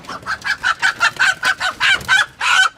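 A rooster clucks loudly and close as it is picked up, giving a rapid series of about a dozen short, agitated squawking calls in quick rhythm.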